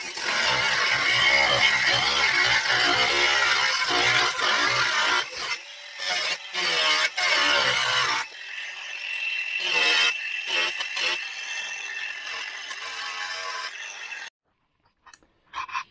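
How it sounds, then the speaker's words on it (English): Angle grinder with a thin cutting disc gently trimming excess metal from a car's rear valance closing panel, a harsh broadband whine running in bursts and pauses close by, then stopping abruptly near the end. "So I'm going to get that done now with my angle grinder."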